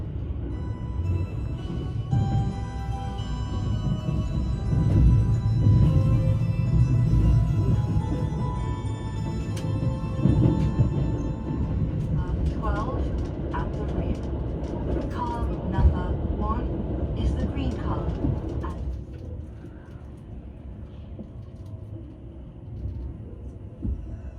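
A JR Thunderbird limited express train pulls out of Osaka station toward Shin-Osaka, giving a steady low rumble of wheels and running gear that swells, holds and then eases toward the end.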